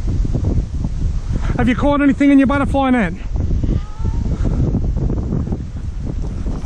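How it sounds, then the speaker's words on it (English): Steady, loud wind gusts buffet the microphone on the shore of Lake Moodemere while out catching yabbies, with a person speaking briefly partway through. "Look at the wind."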